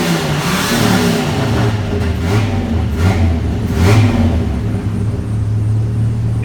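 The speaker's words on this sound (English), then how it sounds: "the exhaust has a lot more popping sound to it with this engine." A Dodge V10 engine revs steadily in a truck, the low exhaust rumble rising and falling through several quick blips with crackling pops, loud and close with no talking.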